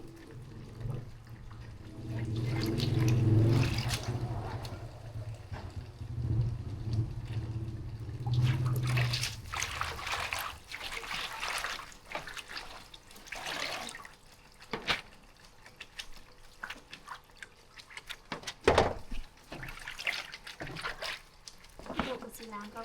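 Freshly picked vegetables are washed under running water with trickling and splashing, loudest at the start and then giving way to intermittent drips and handling noises, while someone talks over it.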